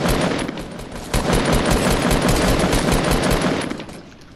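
Sustained burst of rapid gunfire in a video game, dense and loud, with overlapping shots rattling continuously for several seconds before tapering off.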